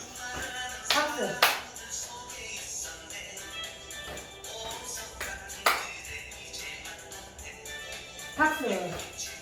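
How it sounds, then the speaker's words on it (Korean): A group of seniors in a silver-college exercise class claps their hands in time during a routine, the scattered claps sitting under music and a leader's singing voice. "박수"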